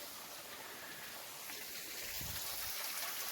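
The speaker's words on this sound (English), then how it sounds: "Right that way there's a stream coming down through there." Woodland stream trickling down past a rock face on a trail in Tishomingo State Park, a soft continuous hiss of running water, faint and steady throughout.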